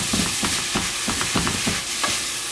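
Meat fries in a pan while being stirred, a loud, close sizzle broken by a regular series of scraping, clattering stirring strokes, with no speech.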